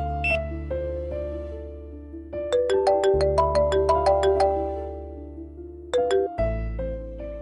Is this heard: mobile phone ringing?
yes